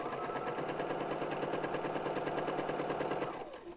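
A sewing machine stitches across fabric in a steady, fast mechanical rhythm, close and even for several seconds before slowing to a stop at the end.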